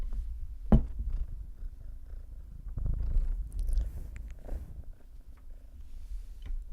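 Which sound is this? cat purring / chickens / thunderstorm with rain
cat purring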